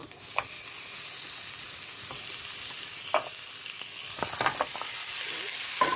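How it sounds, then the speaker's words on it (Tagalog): Beef sizzles and crackles steadily in a hot pot for Ilocano-style beef nilaga, with a few sharper pops and stirring clatters over the continuous frying hiss, close and without any talk. "Then after this, we will start to put our meat."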